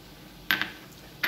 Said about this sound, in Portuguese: Vou tampar a panela e vou aguardar a minha almôndega cozinhar um pouco.